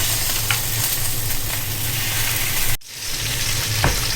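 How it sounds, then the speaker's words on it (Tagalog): Salmon fries in oil in a pan with a loud, steady crackling sizzle, a few faint clicks, and a brief drop in the sound before the frying continues. "Pripituhin lang natin yung ating salmon."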